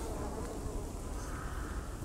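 Bees buzzing around a beehive in the video game Dying Light 2, a steady, dense insect drone close by with no talking.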